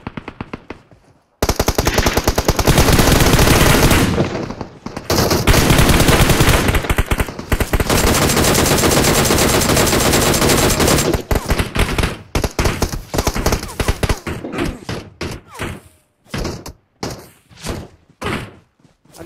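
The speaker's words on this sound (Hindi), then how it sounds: "पीछे से भी गोली चल रही है।" Automatic gunfire in the mobile battle royale game PUBG Mobile on the Livik map, with long loud sustained bursts up close that break into shorter spaced volleys and single shots toward the end.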